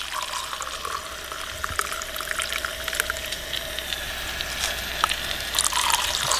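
A drink is poured outdoors at a campsite, a steady trickling, splashing stream of liquid running for several seconds at close range with faint background noise.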